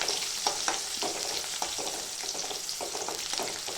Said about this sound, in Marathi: लसूण पण तेलामध्ये चांगला फ्राय करून घ्यायचा.